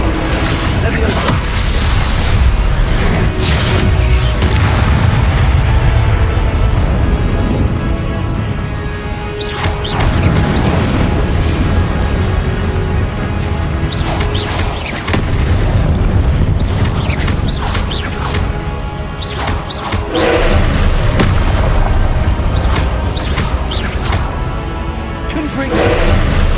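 Booming spell blasts from Confringo fire again and again in a Hogwarts Legacy duel during Percival Rackham's Trial, loud and dense across the whole stretch, mixed with combat noise and occasional voices.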